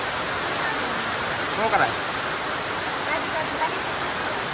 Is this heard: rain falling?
yes